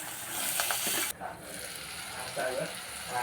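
Broad beans hit a pan of hot oil with ginger-garlic, curry leaves, kasuri methi and turmeric, giving a steady close sizzle that drops abruptly, then continues more quietly with faint stirring.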